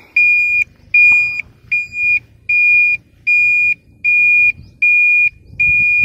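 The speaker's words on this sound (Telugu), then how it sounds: "ఈ రకంగా ఇండికేటర్స్ కూడా మనకు సౌండ్ అలాగే లైటింగ్ కూడా చాలా బాగుందని చెప్పొచ్చు." Indicator beeping from a Pure EV ePluto 7G electric scooter: eight steady, evenly spaced electronic beeps, loud and close, with no talking.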